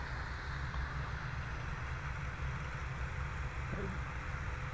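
An E-flite 1.2 m Corsair RC warbird runs at full throttle, giving a steady, unbroken drone with a strong low rumble and broad hiss that holds constant throughout.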